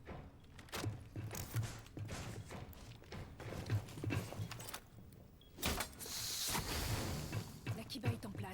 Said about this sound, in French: Je change de chargeur.